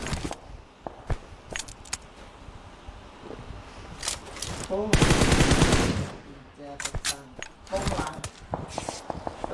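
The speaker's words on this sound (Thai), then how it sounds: "ยิงจังเลย" Gunfire in PUBG on the Karakin map, scattered single shots and short bursts with one long sustained volley in the middle, alongside footsteps, rustling and occasional voice.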